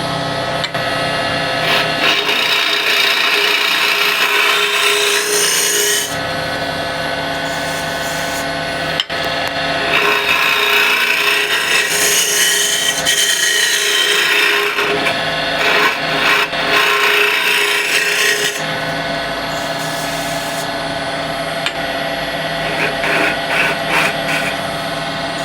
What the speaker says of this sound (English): I'll use an asymmetric curve scraper to finesse everything.